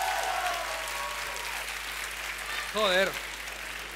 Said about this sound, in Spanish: Venga, fuerte aplauso para el rapero violento.